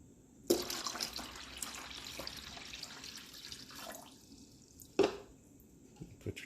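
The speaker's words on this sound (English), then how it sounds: "just pour your water right in." Water poured from a container into the tray of a Tramontina portable ice maker, a quiet steady splashing and trickle close by, with two sharp clunks of the tray being handled.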